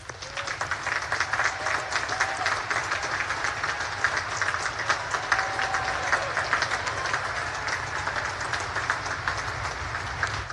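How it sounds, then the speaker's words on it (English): A large audience at the May 2024 United States Naval Academy graduation ceremony applauds distinguished graduates, a sustained, even roar of many hands clapping, somewhat distant and continuous throughout. "Please join me in recognizing and applauding these distinguished graduates."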